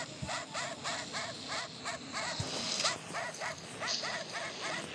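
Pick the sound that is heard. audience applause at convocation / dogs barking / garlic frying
dogs barking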